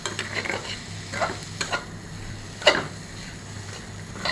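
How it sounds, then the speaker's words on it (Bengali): Onions cook slowly in a pan over low heat, giving a soft, low sizzle broken by a few brief scraping stirs, one sharper clink near the middle. No voices are heard. "এটা আস্তে আস্তে কমায় রাখবো, আস্তে আস্তে পেঁয়াজটা সিদ্ধ হয়ে যাবে"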